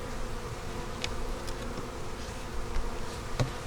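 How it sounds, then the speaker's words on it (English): Honey bees buzz steadily at an opened hive, a dense, continuous drone close by with a few individual insects flitting past louder for a moment. "We're going to take these bees off from here and we're going to be putting them off to the right"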